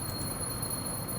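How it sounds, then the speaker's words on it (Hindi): A small hand bell rings during a mother's puja prayer at home, a faint, steady metallic ringing in the background with no talk. "पीछे घंटी की आवाज़ सुनाई दे रही है तुम लोग को?"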